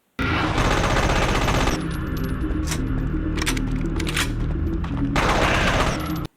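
Rapid LMG bursts and heavy pump-action shotgun blasts from the sci-fi shooter Judge Dredd vs Death, loud and sustained with a brief lull midway before the firing resumes.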